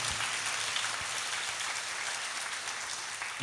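A church congregation claps steadily, a dense wash of applause that holds at an even level throughout with no voices above it.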